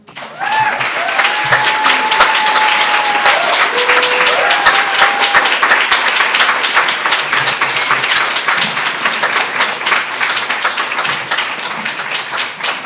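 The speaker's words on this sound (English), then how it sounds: "You're applauding" Applause from an audience after a poetry reading at an evening poetry event, sustained dense clapping throughout, with a few brief whoops and cheers rising above it early on.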